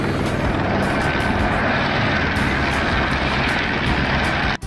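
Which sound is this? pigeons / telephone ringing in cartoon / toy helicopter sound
toy helicopter sound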